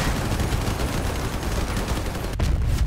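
Rapid-fire Punisher guns blasting in a robot combat video game, a dense continuous burst of loud gunfire that cuts off sharply near the end before another short volley starts.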